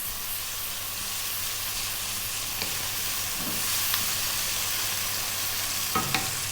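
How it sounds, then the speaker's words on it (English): Ginger garlic paste sizzles in a hot pan for a curry, a steady close hiss with a few light clicks of stirring. "we're going to drop in that tablespoon of ginger garlic paste, which is a 50-50 mix of the 2 blended up"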